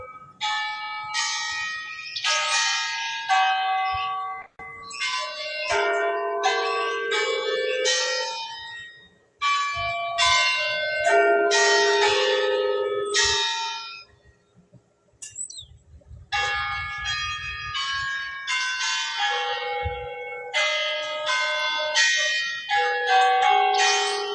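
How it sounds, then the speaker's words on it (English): Several church bells peal together in downtown Augusta, Georgia, in overlapping, continuous ringing, clear and fairly loud, with brief lulls before the chiming resumes. "There's multiple bells."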